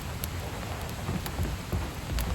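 Steady rain pattering on a mountain camp in the Pacific Northwest, a continuous close hiss with scattered louder drops and a low rumble beneath, no voices.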